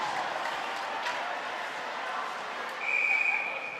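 Referee's whistle blast at a varsity boys ice hockey game, a single sustained shrill tone late in the clip over steady arena crowd noise and muffled chatter.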